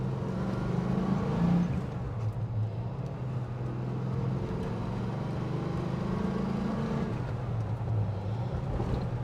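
A 1969 Pontiac GTO with a four-speed manual and Hurst shifter drives along a farm road, its engine giving a steady, throaty drone heard from inside the car, rising slightly at moments and without talk.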